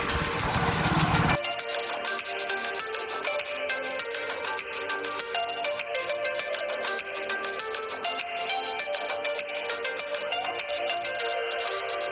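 A steady, droning engine runs continuously throughout, loud and close, with a brief burst of broadband noise at the very start.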